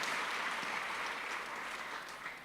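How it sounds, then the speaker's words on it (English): Students at a national workshop on green jobs and skills development in Kenya clap together in a soft, steady round of applause heard from a distance. "Clap for yourselves."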